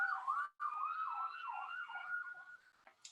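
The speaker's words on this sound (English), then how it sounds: "pardon the police sirens." A police siren wails up and down in a rolling pattern from some distance, steady and moderately loud, then fades.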